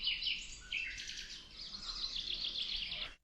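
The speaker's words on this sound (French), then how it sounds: "Si nous gardons le silence, on entend les petits oiseaux." Small birds sing continuously near a quiet church ruin in Croatia, a bright chirping trill that runs steadily for about three seconds before stopping abruptly, fairly faint with a low background hum.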